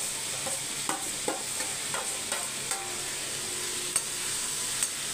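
Ivy gourd and onion sizzle steadily in a hot pan while a spatula scrapes and taps against it at irregular moments.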